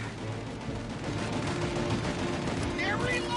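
Dense shootout gunfire from Mafia: Definitive Edition at the hardest difficulty, with steady overlapping shots under game voices and music, and a whistling sweep near the end.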